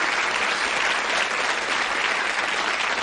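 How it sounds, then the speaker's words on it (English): Studio audience applause on the 1989 game show Bullseye, a steady, dense wash of clapping filling the room evenly for about three seconds with no voices over it. "Give them a round of applause."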